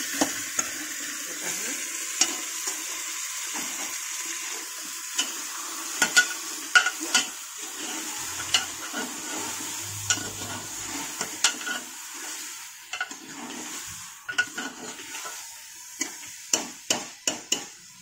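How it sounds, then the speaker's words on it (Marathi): Salted, turmeric-rubbed mutton sautéed in a pan, a soft continuous sizzle broken by repeated sharp scrapes and knocks of a spoon stirring against the metal, close and without talk. "हे चांगलं परतून द्यायचं।"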